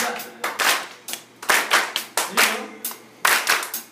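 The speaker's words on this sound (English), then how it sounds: "I want you guys to just clap this beat for us." A group at a church lock-in claps a rhythmic beat in unison, sharp synchronized bursts repeating in a steady pattern, loud and close with brief gaps between phrases.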